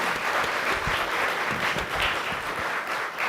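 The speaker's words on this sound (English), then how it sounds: "I'd like at this point for you to join me in giving once more a round of applause to our panelists" Audience applause for the panelists at the Caribbean Economy and Development Report 2021 presentation, a full, steady round of clapping from many people lasting a few seconds.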